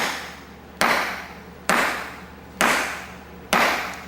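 A fist strikes a brick with a sponge beneath it, four sharp, evenly spaced impacts with short decaying thuds, close and alone over faint room noise.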